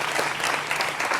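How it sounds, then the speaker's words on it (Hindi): A television studio audience applauds to welcome debate panelists on a Hindi news show, a dense, loud burst of continuous clapping heard close and alone. "जोरदार तालियों के साथ अभिनंदन है"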